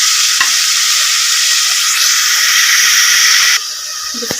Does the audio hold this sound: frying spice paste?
yes